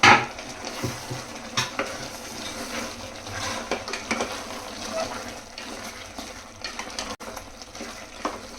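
Mint-heavy masala for mutton shahi gosht biryani being stirred in a pot, a steady scraping and mixing with faint sizzling and occasional spoon clinks against the metal, close and moderately loud throughout.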